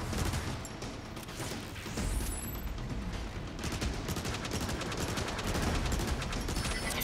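Weapon fire from the Transformers War for Cybertron video game crackles in rapid bursts and volleys, loud and sustained across seven seconds, with a brief rising mechanical whine near the start.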